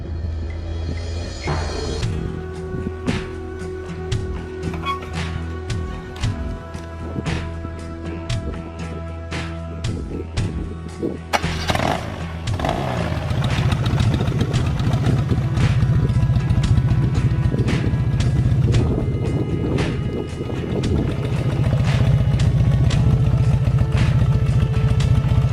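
A BMW R100 R cafe racer's boxer-twin engine runs close up, idling roughly and then revving harder, with mechanical clatter and a steady loud exhaust throughout and no talking.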